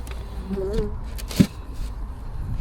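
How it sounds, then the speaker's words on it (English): Honey bees hum from an opened hive brood box, a faint, low buzz close to the microphone, broken by a brief thump and a little quiet speech. "Hello bees, we've not seen you in a while"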